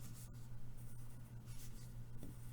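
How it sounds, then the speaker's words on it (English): A pencil traces around a seahorse template for a paper plate craft, giving a faint, steady scratching of graphite on paper over quiet room hiss. "and trace it with our pencil."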